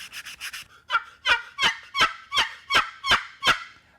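A handmade wooden turkey box call scraped in a run of rapid soft yelps that settle into louder, evenly spaced raspy clucks, close and alone without talking.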